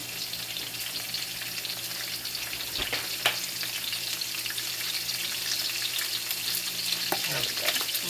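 Big slices of ginger fry in hot oil for a stir-fry, giving a steady, close, bright sizzle with a few soft stirring scrapes and no talking.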